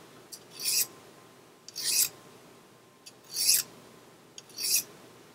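A knife blade is pulled through a Lansky Tactical Blademedic carbide sharpener in four separate rasping strokes, evenly spaced about a second apart. Each stroke is a short, close, gritty scrape with quiet pauses between.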